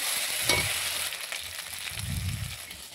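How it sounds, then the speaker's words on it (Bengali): A spice paste of ground onion sizzles and is stirred in a pan for a fish curry, a steady frying hiss with low scraping bursts from the stirring, close and fairly quiet. "এদিকে সুন্দর করে মশলাটাও কষিয়ে নিচ্ছি"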